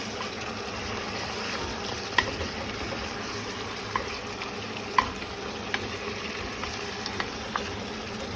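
A spoon stirs tomato purée into a sizzling pan of kure mbaipy, a low steady fry with scattered light scrapes and clinks against the pot, close up and without speech.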